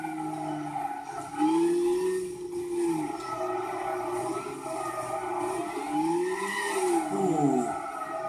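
A 1170-horsepower 2014 Nissan GT-R NISMO race car with no traction control drives a track in Gran Turismo 6, its engine droning and swooping in pitch as it revs up and down through gear changes, with tyre squeal mixed in.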